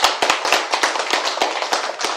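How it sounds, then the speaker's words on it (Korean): A crowd applauds with dense, steady clapping, sharp individual hand claps standing out from the continuous wash. "박수."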